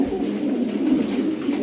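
Saharanpuri cross pigeons cooing, a steady soft throaty burble that carries on without a break, close and moderately loud with no voices.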